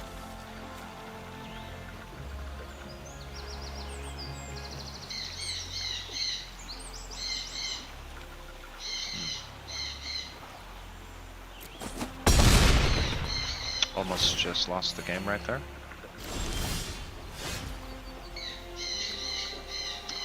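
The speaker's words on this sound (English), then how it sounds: "These birds are going apeshit downstairs." Birds calling downstairs in a house, repeated chirping bursts heard faintly in the background under someone talking over game play, with a brief louder clatter midway.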